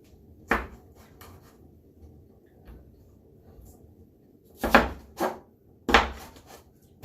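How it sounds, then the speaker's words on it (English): Knife chopping vegetables into bite-sized pieces for stone soup on a cutting board, a single sharp chop followed after a pause by a cluster of three or four quick, close thuds. "you just chop it into smaller pieces"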